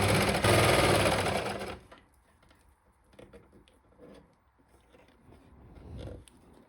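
Sewing machine stitching a stretched elastic waistband onto stretch fabric for a boxer, loud and close in a steady run for about two seconds, then stopping, leaving faint handling and rustling noises.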